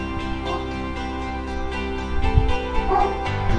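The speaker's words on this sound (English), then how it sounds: "excuse my dog barking in the background." Dog barking and whimpering in the background indoors, a few yips and woofs rising near the end over a steady musical backdrop.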